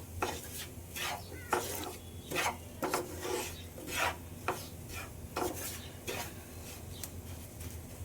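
Roasted semolina stirred in a pan for pineapple sheera, about ten rhythmic scraping strokes of a spoon against the metal, quiet and close, with faint sizzling between the strokes.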